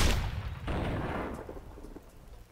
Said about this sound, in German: Komm, wir schießen mal aufs Schiff.